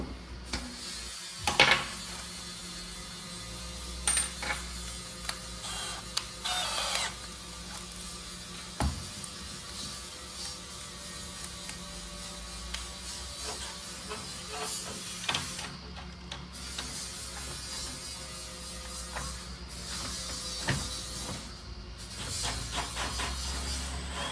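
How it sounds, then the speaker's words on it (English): Faint clicks, ratcheting and small metallic pops come from prying back a panel and working screws loose on a Lamborghini, scattered irregularly over a low, quiet background hum. "Pry this back, try to get this down in here and pop that screw out."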